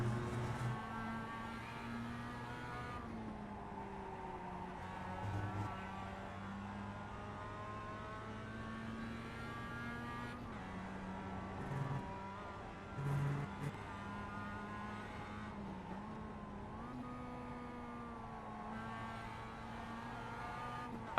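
A race car in the iRacing sim racing game drones steadily through its gears, the engine tone climbing and dipping with throttle lifts and shifts over a long stretch of driving.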